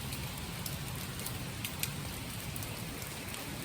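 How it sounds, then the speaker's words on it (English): Heavy rain pours down on an alpine mountain pass opposite Alpe d'Huez, heard from shelter under a small rock outcrop as a steady, dense hiss of drops with no talking. "it started tipping down, so I am sheltering under this little outcrop"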